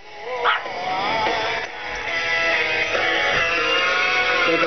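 A Pomeranian dog gives a short yip and then whines and whimpers in high, wavering tones over a steady background hum.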